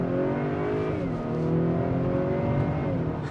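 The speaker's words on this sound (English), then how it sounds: "There's a little bit of fake engine sound pumped into the cabin through the speakers." A 2020 Acura RDX engine hums steadily from inside the cabin, partly fake engine sound played through the speakers, rising in pitch as it accelerates, with a smooth droning tone and no talking.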